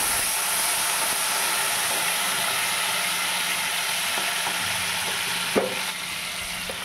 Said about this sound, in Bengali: এবার তেলের মধ্যে পেস্টটা দিয়ে দেবো